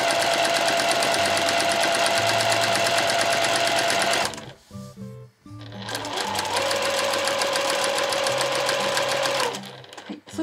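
A sewing machine runs long basting stitches, set to a 4.0 stitch length, to gather fabric for a camisole dress. It makes a steady, loud mechanical whir in two long runs, separated by a brief pause with soft clicks.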